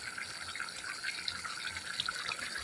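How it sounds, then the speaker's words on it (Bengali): A steady, gentle trickle of water is poured into a potato and poppy seed curry while it cooks, a continuous splashing hiss at moderate volume with no voices. "এবার জলটা দিয়ে আবার একটু নাড়াচাড়া করে নেব আর কি ফুটিয়ে নেব"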